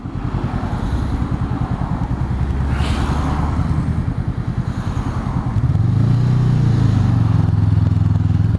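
A Honda Rebel motorcycle engine drones loudly while riding on the road, then rises in pitch as the bike accelerates near the end.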